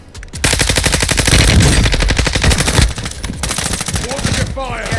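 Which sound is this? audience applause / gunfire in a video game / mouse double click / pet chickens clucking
gunfire in a video game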